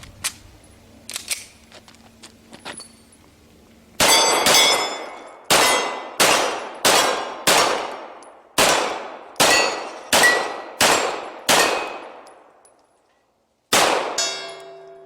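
A Beretta 92FS pistol fires about ten shots, each followed by the sharp ring of a struck steel target decaying quickly. The shots come at a steady, fairly rapid pace with one short gap before the last, loud and alone.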